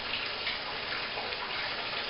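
Water runs from the tap into a master bathtub during a home inspection flow test, a steady close rushing splash that stays constant throughout, with no voices.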